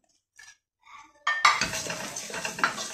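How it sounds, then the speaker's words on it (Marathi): Dry fruit ladoo ingredients are tipped into a hot pan on a stove that has just been switched off. A few soft clinks come first, then a sudden loud clatter, followed by continuous scraping and rattling of the pan. "मी विझवला गॅस आणि हे सगळे माझे जिन्नस मी इथं टाकले."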